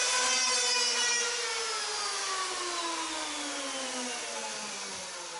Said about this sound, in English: if I even roll the power plane around a little bit, I can knock off what I need